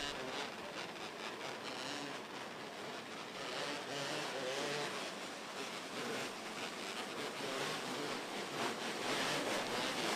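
Race cars in the 270 class roar off the start of heat race number two at Clyde Martin Memorial Speedway, a dense, steady wall of engine noise that holds loud and unbroken throughout.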